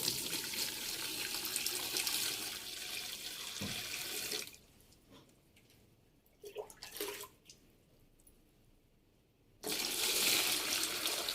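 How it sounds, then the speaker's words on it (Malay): Boiling water is poured slowly into a heat-resistant container for a school heat-conduction experiment, giving a steady splashing pour that drops to quiet trickles partway through before the loud flow resumes. "Okey, kita masukkan air didih ni perlahan-lahan."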